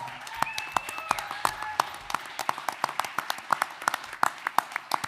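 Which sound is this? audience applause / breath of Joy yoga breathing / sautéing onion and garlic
audience applause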